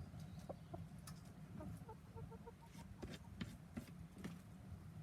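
Domestic chickens cluck softly inside a tent at a winter camp. Short, scattered calls come from close by over a low background hum, and no one speaks.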